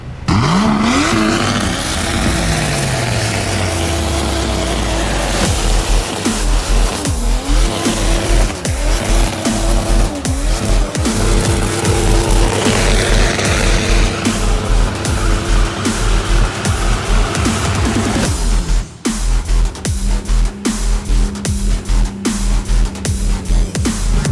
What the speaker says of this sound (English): The RB is a really cool sounding inline six, and we chose it exclusively for the sound.